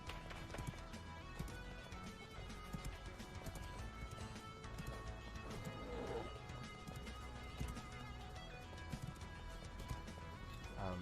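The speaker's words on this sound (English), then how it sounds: "there's a horse we can tame" Video game horse sounds from a stream, with steady clip-clop hooves and an occasional neigh buried in a dense, busy mix of game music and effects throughout.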